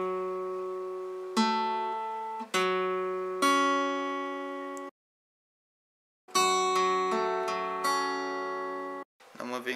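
Guitar plays an intro riff, clear single ringing notes and sustained plucks in a steady phrase, with a short silent pause before the riff resumes and a few quick strums at the end.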